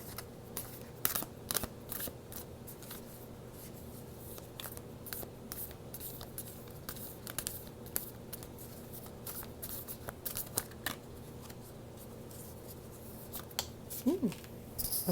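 Tarot cards shuffled and drawn by hand: soft, close, quiet papery flicks and taps scattered steadily throughout, with a low room hum beneath.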